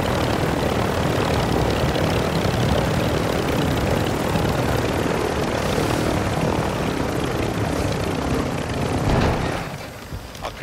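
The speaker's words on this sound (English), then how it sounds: "I can hear the other chopper, but I can't see him." Steady, loud rotor and engine drone of a helicopter flying nearby in a video game combat scene, a dense continuous roar that eases slightly near the end, with no talking.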